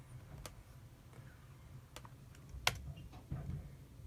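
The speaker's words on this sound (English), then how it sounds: "Now we're going to type in /send and then kernel cache." Command being typed on a computer keyboard during an iPad 4 SSH ramdisk boot procedure; a few sparse, soft key clicks over low background hum, with one sharper tap near the end.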